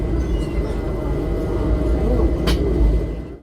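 A passenger train pulling into Palashi station on a Kolkata to Murshidabad run gives a steady, close low rumble of wheels and carriage for the whole stretch, with a brief hiss partway through.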